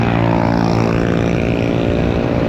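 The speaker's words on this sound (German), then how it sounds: "Der hört sich hier an wie eine Harley mit mega krassen Auspuff." A loud, deep engine roar from a 50cc scooter with a throaty, rumbling exhaust drone, steady and close throughout.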